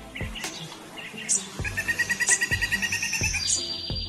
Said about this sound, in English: The calls of pileated woodpeckers are some of the loudest in the forest too.